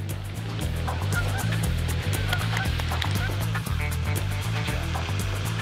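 Geese honk repeatedly over a loud, steady engine drone and splashing water.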